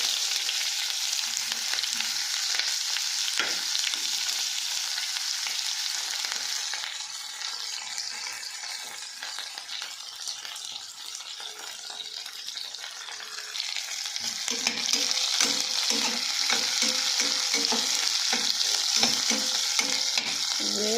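Cumin and chopped onion fry in hot oil in a pan, a bright continuous close sizzle that dips slightly mid-way, then turns busier with rhythmic scraping and stirring toward the end.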